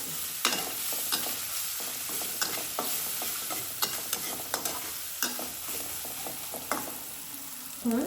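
Taro stolons frying in oil in a pan, with a steady sizzle under repeated stirring scrapes and clinks of a utensil, close and moderately loud.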